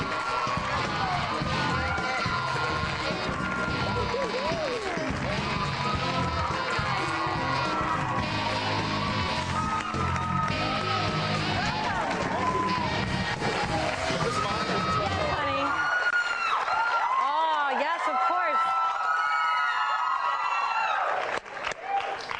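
A TV talk show studio audience screams, cheers and applauds as actor Jared Padalecki comes out. The loud, continuous roar has piercing high-pitched shrieks throughout, then thins toward the end into scattered yells and whoops.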